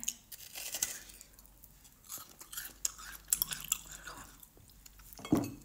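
Faint, close chewing of chilled watermelon dressed with lemon and honey, soft wet crunches and mouth sounds coming in irregular bursts.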